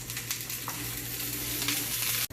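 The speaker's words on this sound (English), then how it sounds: "We have our onions in the pan. We are going to give it a stir" Onions frying in a pan for a bell pepper onion curry, giving a steady loud sizzle with soft stirring scrapes throughout, briefly cut short near the end.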